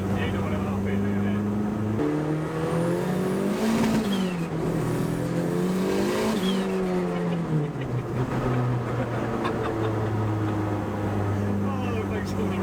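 A space-framed rear-wheel-drive Mk2 Golf project car's engine drones loudly and steadily, its pitch rising and falling as it revs and eases off, heard from inside the car with people talking over it.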